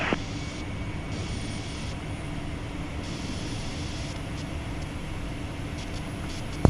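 Inside a Learjet 45XR cockpit during the climb out, a constant loud engine and airflow roar fills the space, with faint mechanical shifts as the flaps retract and a small click at the very end.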